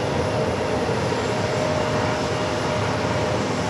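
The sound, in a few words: Boeing 737 MAX 9 airliner at JFK airport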